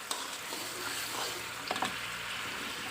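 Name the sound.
sugar and tamarind juice simmering over low heat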